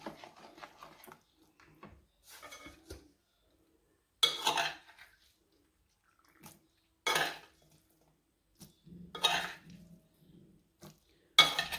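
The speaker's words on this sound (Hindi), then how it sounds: "इसको भी हम अच्छे से मिक्स कर लेंगे" A spoon mixes gram-flour boondi into a dish, making sparse, close scraping strokes in separate bursts with quiet gaps between them.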